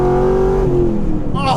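A Chevrolet Camaro SS SLP ZL600 with a big 650-horsepower V8 revs loudly and close by, its deep engine note rising and then falling away, with a voice speaking over it.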